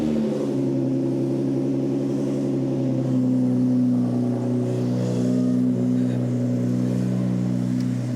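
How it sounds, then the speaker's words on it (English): Cold start of a 2018 Ford Raptor fitted with a new exhaust: a deep, steady engine rumble at close range, settling into a throaty idle with a slight swell partway through. "Cold start on 2018 Raptor with new exhaust."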